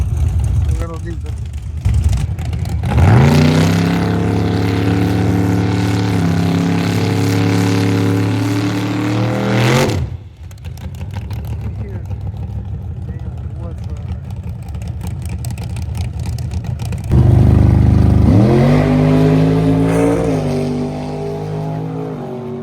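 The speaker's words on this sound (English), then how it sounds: "Here goes the little diesel." An OM606 diesel-engined car on track at a track day, its loud, close engine droning steadily and revving up twice in long pulls, with a brief drop-off between them.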